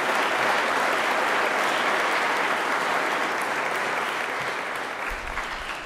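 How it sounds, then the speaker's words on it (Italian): Sustained applause from a large crowd at an Italian presidential reception for Paralympic swimming world championship medalists, loud and steady throughout, easing slightly near the end. "Vi direi che un applauso intanto ci sta."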